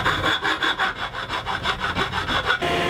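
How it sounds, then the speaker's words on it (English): A reciprocating saw cuts through wood with fast rhythmic rasping strokes, loud and close, steady for a few seconds with no speech. "the hacksaw seemed to be taking way too long, so I finished it up with a reciprocating saw"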